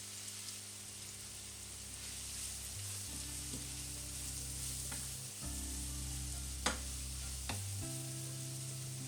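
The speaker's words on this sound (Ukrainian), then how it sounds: "Поки цибулька смажиться" Steady sizzling of onions frying in duck fat, a continuous crackling hiss with a few sharper pops, close and even, no voices.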